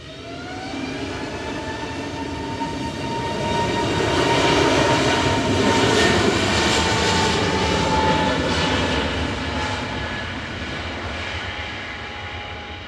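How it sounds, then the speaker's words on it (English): An EasyJet jet departs Manchester Airport, its engines swelling into a loud, rising roar that peaks midway and then slowly fades with distance, heard on its own with no talking. "Departing now to Lisbon is EasyJet flight"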